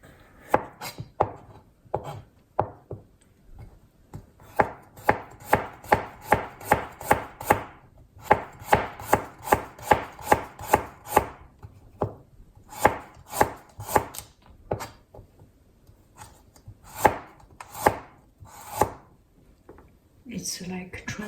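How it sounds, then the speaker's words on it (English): A knife chops a small radish on a board into thin, nearly transparent slices, with steady rhythmic cuts in quick bursts and short pauses between runs. A voice talks now and then. "I will enjoy cutting the radish."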